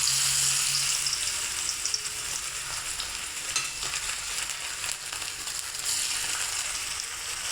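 Oil sizzles steadily in a pan as fish fries, a soft, continuous crackle close by, with light stirring and scraping and faint watery sounds underneath.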